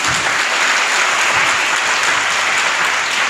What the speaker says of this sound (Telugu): కొట్టు గట్టిగా చప్పట్లు